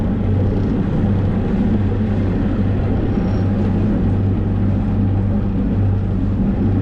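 A boat engine held at 2,000 RPM in reverse during a Rocna anchor holding test gives a loud, steady, close low drone with a constant hum and no break or voices.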